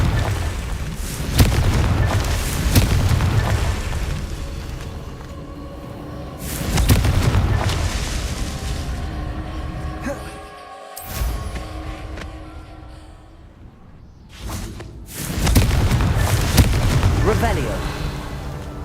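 Several heavy blasts from the Confringo spell in Hogwarts Legacy boom and roll in separate surges, loud and rumbling, with quieter stretches and a short dropout between them.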